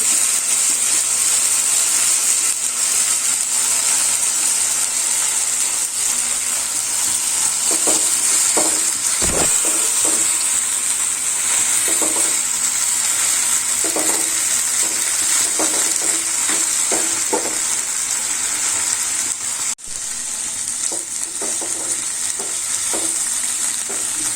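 A pan frying over a medium flame with turmeric powder just added, giving a steady, fairly loud hiss and sizzle. Intermittent scrapes and knocks of a stirring spoon come through, with no voices.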